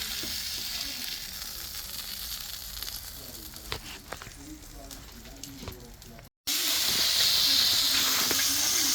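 Asparagus sizzles in a frying pan, a steady bright hiss running throughout with a few soft scrapes, then a brief cut and a louder, fiercer sizzle resuming near the end.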